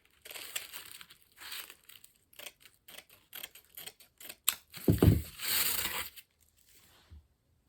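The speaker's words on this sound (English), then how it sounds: "all we're going to do is take our mesh and put it around it, fold it over" Wreath mesh being wrapped and folded over makes close, irregular crinkling and crumpling rustles in short bursts, with a louder longer crush of material near the end and quiet gaps between.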